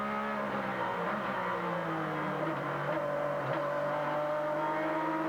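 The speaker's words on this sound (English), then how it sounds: "See him feathering that throttle, trying to get into it, Quicker he can get on it, quicker he can go" A Doran-chassis, Chevrolet-powered sports prototype at a Grand American Rolex Sports Car Series race, heard from onboard as the engine drones steadily and the throttle is feathered, producing wavering pitch with small dips and rises.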